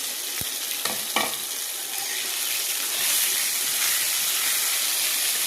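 Masala paste sizzles and hisses steadily as it fries with carom seeds in hot oil, with a few sharp stirring knocks near the start and the frying swelling slightly louder midway; no voices.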